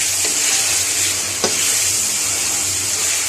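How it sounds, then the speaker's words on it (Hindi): Onion and garlic paste fries in hot oil for a chicken white karahi, a steady close sizzle with a single scrape of stirring partway through. "प्याज और लहसुन की पेस्ट को अच्छी तरह भून लेंगे"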